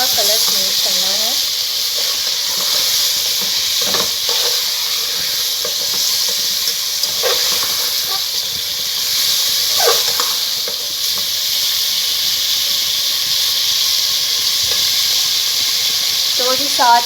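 Chicken frying in a pot over medium-low flame for pulao, a steady close sizzle and hiss with occasional stirring scrapes, a voice talking over it.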